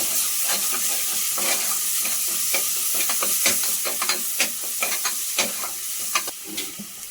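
Crab masala with ginger garlic paste fries in a pan, a steady close sizzle broken by regular scraping stirs and clacks of a spoon against the pan, with no voices.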